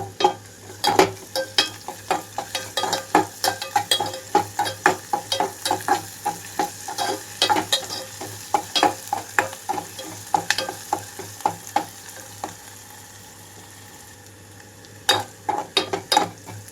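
Onions with ginger-garlic paste frying in a pan for a tomato and drumstick-leaf curry, a soft sizzle under a brisk run of rhythmic spatula scrapes and taps that pause for a couple of seconds near the end, then resume.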